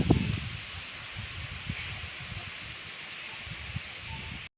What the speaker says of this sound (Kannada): ಎಷ್ಟು ಚೆನ್ನಾಗಿ ಗಾಳಿ ಬೀಸ್ತೈತೆ ನೋಡು.